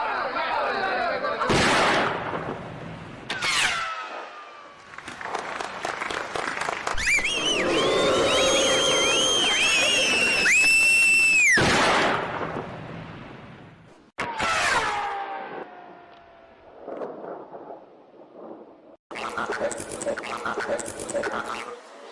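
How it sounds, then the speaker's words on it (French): Gunshots in a French comedy film scene, sharp cracking bursts scattered through the clip between shouted lines and music, with people talking throughout. "Il vous tire dessus."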